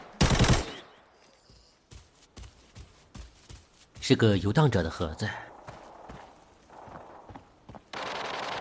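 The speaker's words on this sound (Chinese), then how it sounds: "这种连续的枪声绝对属于真人玩家" Automatic gunfire crackles in rapid bursts in the shooter game Arena Breakout, with a sharp volley at the start and more firing later, along with footsteps and someone talking over the action.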